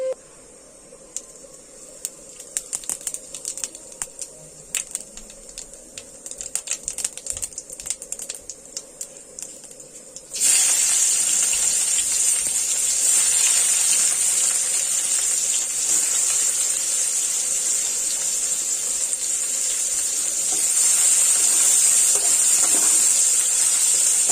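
Cumin seeds dropped into hot oil while cooking a cabbage curry: scattered light crackles give way to a sudden, loud, steady sizzling hiss that continues to the end.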